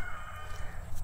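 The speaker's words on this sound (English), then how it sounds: "You can hear the chickens in the background." Chickens cluck and call in the background of an off-grid homestead in the woods, heard as brief, fairly faint bird cries over a constant low rumble.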